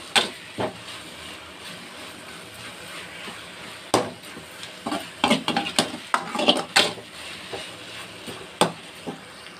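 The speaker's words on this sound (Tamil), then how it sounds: "கைவிடாமல் நல்லா கலக்கி விட்டுனே இருங்க." Raw mango rice mixture stirred in oil in a pan, a spoon scraping and clinking against the metal in irregular bursts with a faint sizzle underneath, close and moderately loud.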